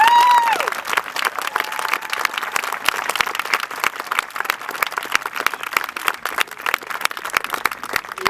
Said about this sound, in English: And can we have a round of applause for Arnold?